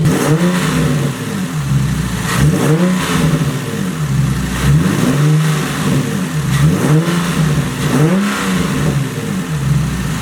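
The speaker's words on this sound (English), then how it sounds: "Do you guys hear that cold start?" A Nissan 370Z engine on a cold start with a cold air intake revs repeatedly in rising and falling surges, loud and close, with a steady rumbling idle underneath.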